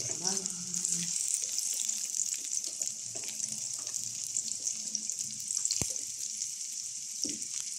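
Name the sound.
pechay sautéing in oil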